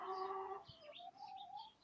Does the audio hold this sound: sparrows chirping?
yes